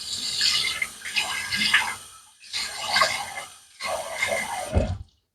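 Water splashes in three separate bursts from a running tap as a face is wetted before shaving, loud and close, each burst ending in a brief gurgle.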